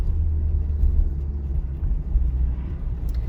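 Interior of a car on a driving test route as it overtakes a training car: a steady low engine and road rumble, fairly loud and unbroken throughout.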